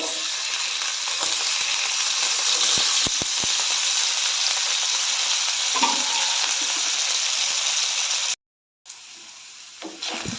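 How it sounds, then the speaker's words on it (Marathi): Thin slices of potato frying in hot oil in a pan, a loud, dense sizzle close up with a few faint clicks, cut by a brief silence before the frying resumes more quietly. "बटाटे एकदम पातळ असे चिरून घेतलेले आहेत ते फ्राय करून घेऊया"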